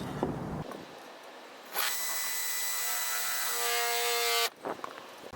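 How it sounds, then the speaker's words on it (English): An electric drill bores a hole through the body of a vintage 1968 Corsair trailer for solar panel wiring, a steady high whine running close and loud for about three seconds, then stopping abruptly. "So I can get pretty close to this vent and drill my hole for the wire."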